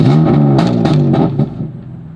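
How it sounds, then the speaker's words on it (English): A BMW F80 M3 with the S55 engine and a stage 1 MHD tune, set to Sport Plus, revs loudly and close by: a rising harmonic engine note with several sharp throttle blips, then settling back toward idle. "let me give you a little bit of a rev here, and this is in I think it's Sport Plus"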